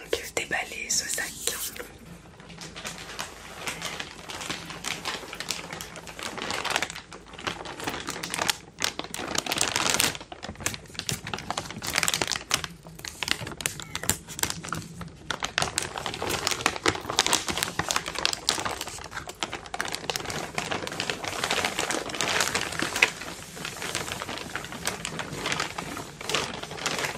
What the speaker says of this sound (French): On va donc déballer ce sac.